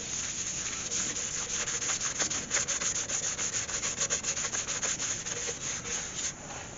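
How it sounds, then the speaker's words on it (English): A cloth rubs rhythmically against a spinning yew wood bowl on a lathe as sand sealer is worked in, producing a close, steady swishing friction in quick repeated strokes with no voices. "Now to apply some sand sealer."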